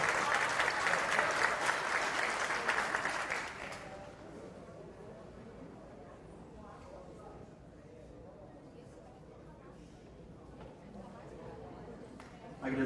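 Audience at an academic ceremony giving a round of applause, loud steady clapping for a few seconds that fades into quiet room murmur and chatter.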